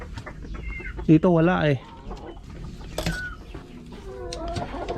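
Pet chickens cluck and squawk up close in a backyard coop, one loud burst of agitated calls followed by scattered softer clucks while a person speaks briefly.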